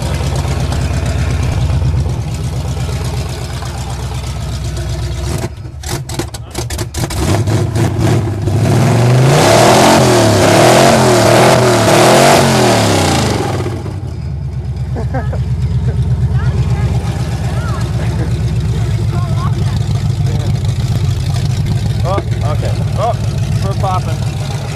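Cold starts of a Jeep CJ5 and a Farmall H tractor: an engine cranks in rough bursts, catches and revs loudly with rising and falling pitch, then settles into a steady idle, with people talking throughout.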